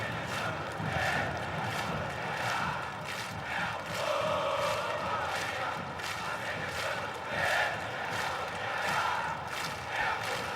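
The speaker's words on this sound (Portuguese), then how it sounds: "E a torcida do Corinthians é quem canta aqui no Engenhão" Corinthians supporters singing in the stands at Engenhão stadium during a Brazilian league football match, a distant, steady crowd chant with rhythmic swells and claps repeating throughout.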